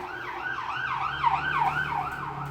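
A toy ambulance siren wails in a rapid, looping up-and-down pattern, steady and electronic-sounding, with a faint low hum beneath.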